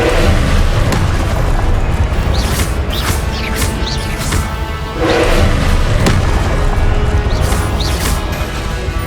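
Confringo fire spell blasts in the Hogwarts Legacy video game, loud booming explosions with crackling bursts recurring every second or two over a dense, continuous battle rumble.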